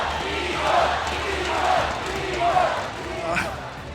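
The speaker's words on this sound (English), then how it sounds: "You hear the crowd?" A large esports arena crowd at the M5 knockouts, ONIC vs BLCK, cheers in rhythmic swelling chants roughly once a second, loud and sustained beneath an announcer's voice.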